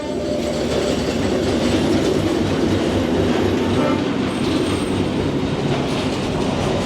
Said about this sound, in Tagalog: dalawa yung train na ito yung pinakamabilis kong antay dito